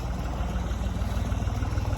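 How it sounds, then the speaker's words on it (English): A farm tractor engine idling in a field before turning up potatoes, a steady low throbbing chug with an even pulsing rhythm, heard from a short distance with no talk. "I got the tractor running because he's getting ready to go down here"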